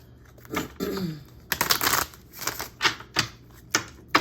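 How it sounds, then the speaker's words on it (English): A run of crisp, irregular clattering snaps and riffles, close up, like cards being shuffled and bridged, with no voices. "Let's try this one more time and shuffle."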